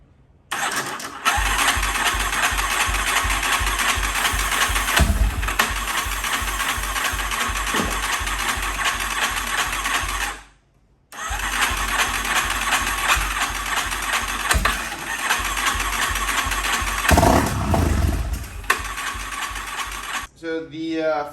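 A weather-damaged $200 ATV engine runs while its starter wires are held together, a steady loud mechanical drone that cuts out briefly midway, then catches and runs again, with no voices.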